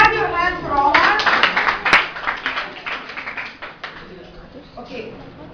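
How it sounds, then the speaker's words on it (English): A classroom of children clapping hands together during a school English play, a dense patter of claps fading over a few seconds, with a voice speaking over the start. "clap your hands for Omar."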